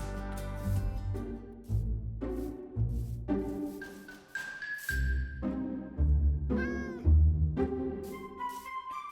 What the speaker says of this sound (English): Let's see if I can get this cat here.